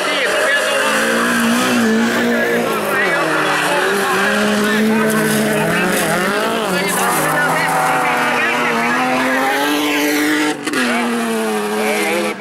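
Junior rallycross race cars roar past at a national final, engines loud and close with rising and falling revs and shifting pitch, under excited commentary.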